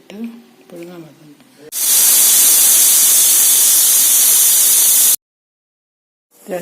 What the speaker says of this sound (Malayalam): 2 വിസിലടിച്ച് തീയെടുത്തു.